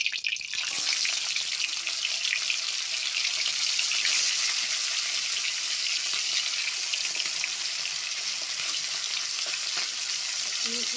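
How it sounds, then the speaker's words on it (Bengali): Fish frying in hot white oil in a wok, a loud dense crackling sizzle that begins abruptly and holds steady for the whole stretch, close up with no voices. "আমি এবার সাদা তেল দেবো, সাদা তেল দিয়েই মাছটা ভেজে নেব"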